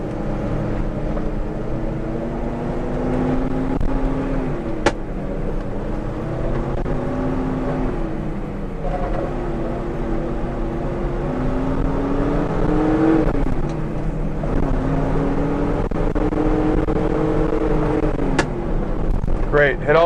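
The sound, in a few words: 1970 Chevrolet Chevelle SS accelerating through four gears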